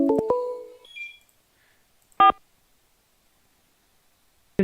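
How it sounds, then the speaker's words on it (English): Prison phone ringing with short electronic tone bursts: a cluster of beeps at the start, then single brief rings separated by silence. "The prison phone is ringing."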